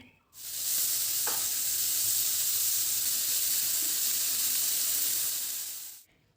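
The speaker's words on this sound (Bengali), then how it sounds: "পেঁয়াজ কুচিটাকে হালকা আঁচে নেড়ে চেড়ে নিতে হবে" Chopped onion sizzling in hot oil in a wok, stirred over low heat, makes a loud, steady hiss that starts abruptly and holds evenly for about six seconds before cutting off, with no voices.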